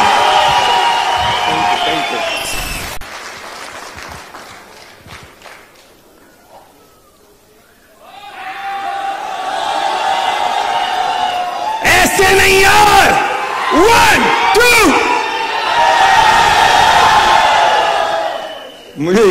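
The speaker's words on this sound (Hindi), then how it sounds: "एक बार जोरदार ताली" A crowd cheers and whoops loudly with broad applause-like noise, rising after a brief quiet lull and continuing strongly to the end.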